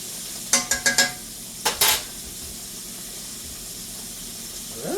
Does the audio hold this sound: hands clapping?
no